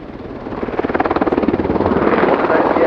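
A British Army AgustaWestland Apache helicopter flies at an air show, its rotor thumping in a loud, steady rhythm that grows stronger. Commentary is faintly audible underneath.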